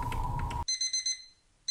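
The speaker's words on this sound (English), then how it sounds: "Alarm time adjust." An alarm clock is set aboard a 2GO ferry cabin on the Manila to Cebu route: a steady tone cuts off, then a series of short electronic beeps follows, fairly faint and with no talking.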